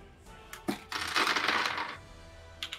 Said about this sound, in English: As we hear the dice pour on the table.